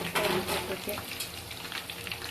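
Chicken kebab pieces fry in a pan of hot oil with a steady, close sizzle and spatter, joined by a few scraping stirs near the start.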